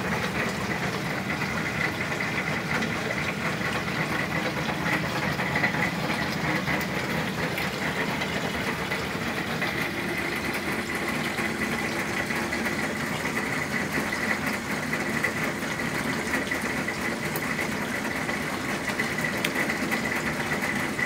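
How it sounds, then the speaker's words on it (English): Drain pump of a Zenith wringer washer running, a steady close mechanical hum with a constant whine, fairly quiet and unbroken throughout, no voices. "So you can see it's a good flow. And the pump's fairly quiet."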